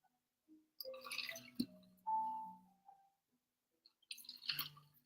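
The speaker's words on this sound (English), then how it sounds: "We're gonna go with a splash and a half of cranberry juice." A splash and a half of cranberry juice is poured into a drink, with a short gurgling pour, a brief second splash and some drips, close and quiet, against near silence.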